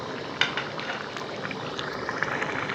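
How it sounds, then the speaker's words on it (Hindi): Water being poured into a simmering potato and fish curry gravy in a village-style kitchen, a steady wet splashing and bubbling hiss that runs on throughout, close and moderately loud, with no voices. "अब इसमें मैं ग्रेवी का पानी डालूँगी"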